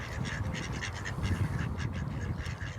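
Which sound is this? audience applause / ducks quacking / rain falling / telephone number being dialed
ducks quacking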